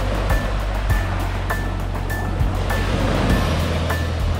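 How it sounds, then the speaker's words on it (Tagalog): Sea waves wash steadily onto a sandy beach, a close, continuous roar of surf with gentle surges and no voices. "Ayan na yung dagat."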